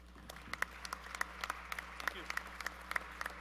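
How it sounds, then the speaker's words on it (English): Scattered, fairly sparse hand clapping from an audience welcoming Mr. Jim Gagliardi of St. John's University to the podium at a trophy presentation, soft and distant over a low room hum. "if you would give him a big round of applause"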